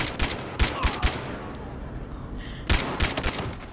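Gunfire in Battlefield Hardline multiplayer, a few clustered bursts of shots at the start and again near the end, with a quieter lull of game ambience between them.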